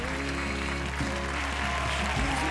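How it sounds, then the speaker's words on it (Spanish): Audience at a televised dance audition applauding after a tribute performance, a steady, full clapping sound mixed with lingering tonal music in the background. "Gracias, fuerte aplauso."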